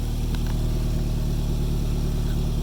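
A car engine idles with a steady low rumble and rapid, even puffing pulses from a leaking exhaust, close and constant throughout, with no voices.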